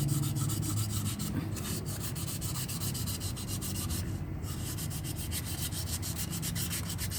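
Steady, continuous rasping of fine and coarse sandpaper rubbing back and forth to remove crust from a rear brake part, close and even in loudness throughout, with no voices.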